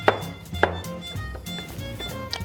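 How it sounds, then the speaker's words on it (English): A kitchen knife chops shiitake mushrooms on a cutting board, two crisp strikes followed by softer, steady cutting taps at close range. "There's some shiitake I'm cutting up now."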